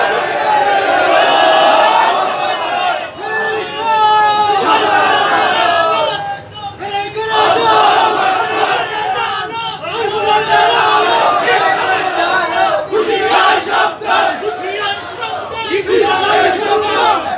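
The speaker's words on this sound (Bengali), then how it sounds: "আপনারা নিজেদের কণ্ঠ ছেড়ে দিয়ে একটু তাকবীর দেন" A large crowd at a religious gathering shouts the takbir chant together, loud and sustained for nearly the whole stretch, dipping briefly midway before the massed voices surge back.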